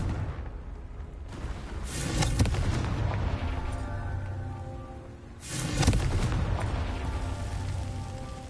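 Repeated Confringo blasting-spell explosions from Hogwarts Legacy on PlayStation: two loud, booming bursts roughly three and a half seconds apart, each with a sharp crack and a rumbling, crackling tail over a steady background din.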